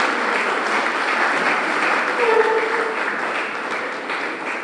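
An audience applauds Mylène Médor at a ceremony, with steady, moderately loud clapping throughout and faint voices underneath.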